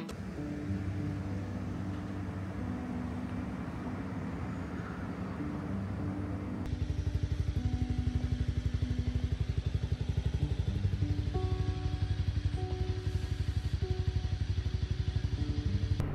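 Motorcycles idle at a stop near a Suzuki Hayabusa GSX1300R, a steady low engine rumble that grows louder and fuller partway through, with a faint tonal hum above it.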